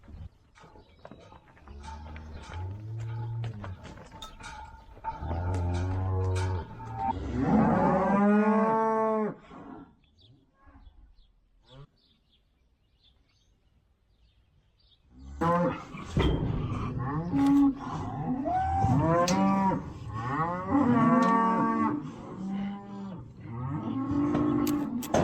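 Cattle mooing loudly while cows are sorted from their calves on a farm, several long overlapping bellows in two bursts separated by a quiet gap, close and clear with no talking.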